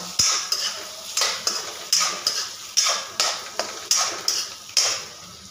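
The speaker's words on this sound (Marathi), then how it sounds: "व्यवस्थित परतून घ्यायचा कांदा आपला" Onion being sautéed in a pan with butter and oil for matar paneer, with a spatula scraping and stirring in a steady rhythm of about a dozen close, crisp strokes and only a faint sizzle underneath. No one speaks.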